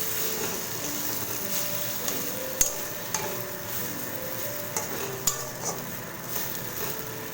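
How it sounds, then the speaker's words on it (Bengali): A spatula scrapes and knocks at intervals against a wok while thick taro paste is stirred over gentle heat, with a faint sizzle underneath, fairly quiet and close. "একটু মাঝে মাঝেই ঢাকনা খুলে আপনারা সমানে কিন্তু এইভাবে নাড়তে থাকবেন"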